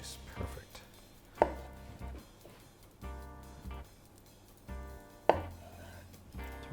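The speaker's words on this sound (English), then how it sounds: "Just gonna slice tofu." Tofu is sliced with a knife, giving close knocks against the cutting board every second or so, two of them sharper, over faint background noise.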